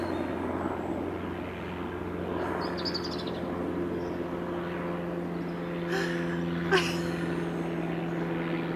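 A helicopter and a biplane drone overhead in a garden, a steady, distant engine hum that carries throughout, with a brief nearby rustle and click partway through.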